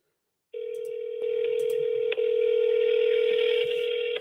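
Placing a phone call: a steady dial tone comes in abruptly and holds, with clicks and brief tone shifts as the number is dialed, clear and close with no talking.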